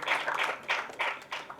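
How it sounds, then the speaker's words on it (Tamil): Audience at an award ceremony honouring people for social welfare applauds in short bursts of clapping, fairly close and without talk over it. "உங்கள் கரகோஷங்களுக்கு நன்றி"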